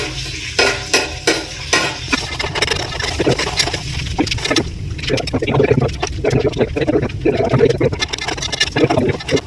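Onions stirred in a hot pan while cooking biryani, with continuous sizzling and frying under repeated scraping and stirring strokes of a spoon, close and steady throughout.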